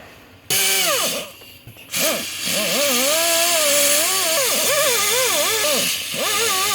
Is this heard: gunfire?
no